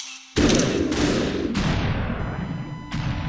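Gunshots in the video game Superhot: several loud, close bangs at irregular intervals, each with a sharp attack and a decaying tail, over a low hum.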